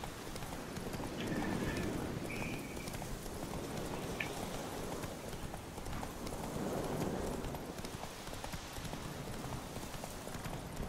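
Roach, a horse in The Witcher 3: Hearts of Stone, gallops at a steady clip-clop rhythm through a forest, with soft ambient wind behind the hoofbeats and a few faint chimes.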